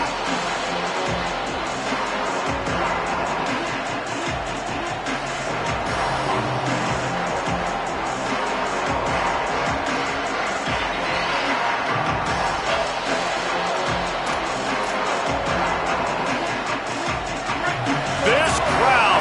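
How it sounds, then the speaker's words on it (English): Football stadium crowd roaring loudly and continuously after a defensive stand, a dense wall of cheering noise that swells slightly toward the end. "This crowd, full throat, spreading the eardrums and letting them know it's going to be a long day."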